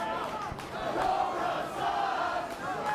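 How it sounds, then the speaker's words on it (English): A pro wrestling crowd shouts and jeers in a continuous, fairly distant roar of many voices, swelling and dipping over a few seconds. "this crowd is certainly telling the Cobra and Justin King what they think about him"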